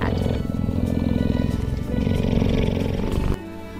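A cheetah purring like a contented house cat, a continuous throaty rumble running steadily for about three seconds before dropping away abruptly to near silence.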